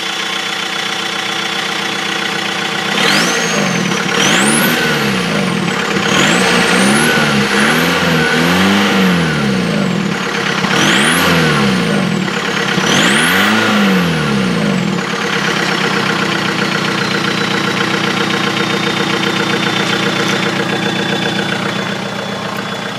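An old diesel car engine with some exhaust work and a muffler still fitted runs close by, idling with a steady clatter, then revving up in several rising and falling surges before settling back to idle.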